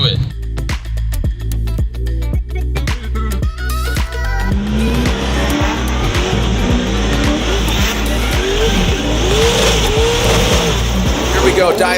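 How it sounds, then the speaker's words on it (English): Two drift cars initiate a tandem drift at a pro drifting event in Seattle: engines rev hard in rising bursts, then the tires break into a loud, sustained squealing roar while a commentator talks over it. "Here we go, Dai Yoshihara initiating simultaneously as Castro in the chase position."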